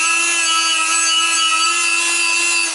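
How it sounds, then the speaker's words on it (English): Sandpaper rubbed on a car brake disc, cleaning its holes, gives a continuous close scraping with a steady tone, holding even for nearly three seconds before easing off. "And then I sandpaper also these holes in this my brake disc"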